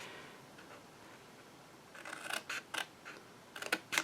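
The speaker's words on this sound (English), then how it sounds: "We're going to cut on these lines right here with our scissors" Scissors snip through paper along score lines for a mini album: a quiet lead-in, then a series of short, crisp cuts in quick bursts close by.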